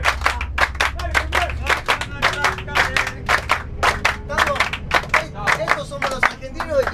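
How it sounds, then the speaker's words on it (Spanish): An audience claps the Argentine chacarera rhythm in unison, steady, sharp hand claps in a repeating folk pattern, loud and close, with voices faintly underneath. "Y yo voy a arrancar con las palmas de la chacarera."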